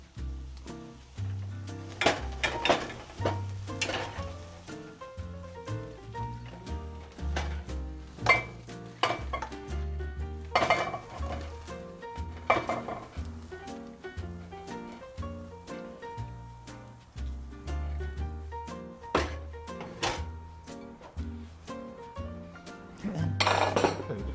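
Sautéed taro root (masala arbi) being scraped and served from a pan onto a dish, with a steady run of metal utensil clinks and scrapes against cookware, close and fairly busy throughout.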